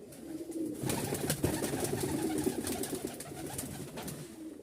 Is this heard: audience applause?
no